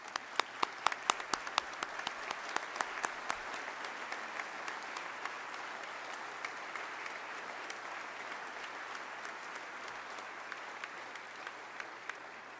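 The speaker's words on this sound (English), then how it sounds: "Please give them a round of applause as well." Applause from an audience at a lawmakers' pioneer award presentation, opening with a few sharp, distinct claps that quickly swell into a steady, even round of clapping lasting about twelve seconds.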